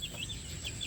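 A last batch of newly hatched chicks, just taken from their mother hen, peeps in soft, repeated high chirps in short clusters, with a steady faint background hiss.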